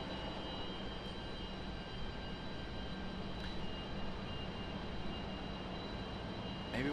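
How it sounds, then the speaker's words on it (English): A Delta Connection Republic Airways jet arriving from Boston at Raleigh-Durham airport, a faint, steady distant engine rumble with broad hiss and no voices. "It's a Delta connection, Republic Airways, coming in from Boston."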